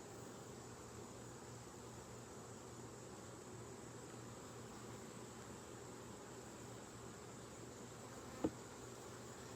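Honey bees buzzing steadily around beehives, a continuous low drone close by, with a single brief knock near the end.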